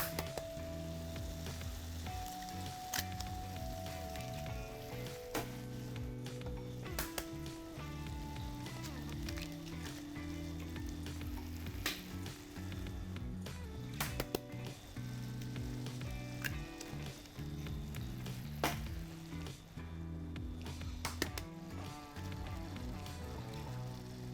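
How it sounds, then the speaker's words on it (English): Eggs sizzle while frying in a pan, giving a faint, steady crackle with scattered little pops and ticks that runs on without a break. "and then start cracking your eggs."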